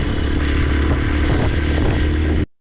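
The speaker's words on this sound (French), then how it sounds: "je vais te présenter voilà la première moto, donc une 125 XLR de 1989" A 1989 125 XLR single-cylinder four-stroke motorcycle runs close by, its engine thrumming in a steady, loud idle for about two and a half seconds before cutting off abruptly.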